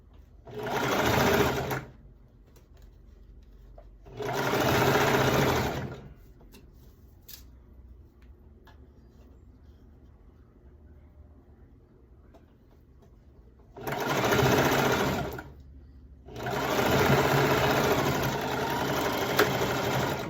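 A sewing machine stitches down the side seam of a two-toned skirt set bodice in four loud bursts of one to three seconds each, separated by quiet pauses.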